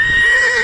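A horse gives a loud, close whinny, a shrill wavering call that holds for a moment with no talk over it.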